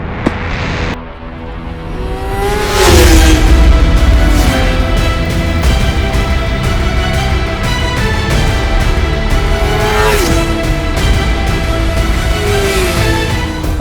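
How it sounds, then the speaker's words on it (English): MV Agusta F4 R superbike engine revving hard on a ride, loud and close, rising and falling through gears with clear pitch sweeps and sustained high-rev howl throughout. "allow me the pleasure to take you for a spin on the most exotic superbike that I have laid my hands on."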